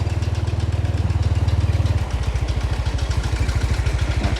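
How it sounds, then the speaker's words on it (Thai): A small water pump engine pumping water into a rice field runs steadily with a loud, rapid chugging clatter, its rhythm shifting slightly midway, with no talk over it. "เขาก็ สูบน้ำเข้าไปเพื่อที่จะให้ไปทางนู้น แล้วก็ไปทุ่งนาข้างหน้านะคะ"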